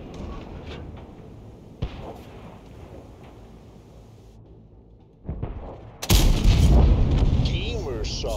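A Chi-To SP tank fires its cannon on the Prokhorovka map in World of Tanks: a sudden loud, heavy boom with a long rumbling tail near the end, after a quieter stretch of engine and battle ambience with one smaller thud earlier.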